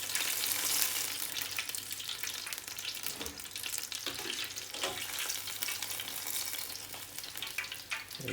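Chicken pakora bubbles in hot oil, deep-frying with a continuous crackling sizzle and occasional stirring, close up with no talking.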